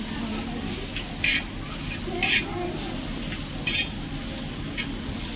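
Masala with onion sautéing in oil for a Konkan-style chicken dish, a steady low sizzle with stirring scrapes and a few brief louder clatters of the spoon against the pan.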